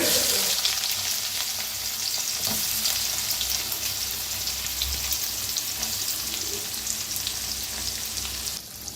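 Chopped onion drops into hot oil with mustard seeds, cumin and a pinch of asafoetida, and a loud, steady sizzle of frying fills the whole stretch without pause, dropping slightly at the very end.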